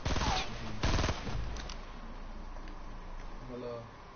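Video game gunfire: loud machine-gun bursts rattle at the start, followed by fainter scattered shots and voices talking underneath.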